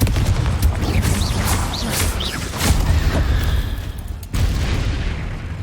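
In a Harry Potter video game, the Confringo explosion spell sets off a dense run of booming blasts and crackling bursts over a loud rumbling battle background, with overlapping game noise and no clear voices.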